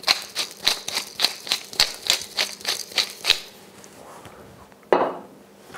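Food processor pulsing a smoked roe taramasalata with lemon juice: about a dozen quick, evenly spaced rattling bursts close up, then a pause and one final louder burst.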